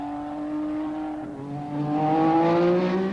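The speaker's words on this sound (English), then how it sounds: "Cosworth have produced an engine with full race boost, and the vicious power induces wheel spin on the wet surface." A 1986 Cosworth V6 turbo Formula One car runs at full race boost on a wet Castle Donington track, spinning its wheels. Its engine gives a loud, close, rising whine that dips briefly and then climbs again, heard alone.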